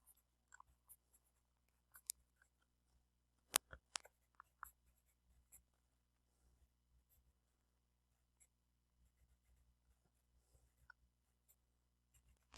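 A pencil writes in notes during a sixth-grade math lesson, making faint, sparse scratches and a few brief taps against near silence.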